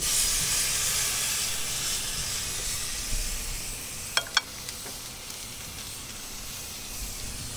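Pork belly (liempo) sizzling on a hot grill, a soft continuous hiss with a few sharp pops and crackles midway, heard alone without talk.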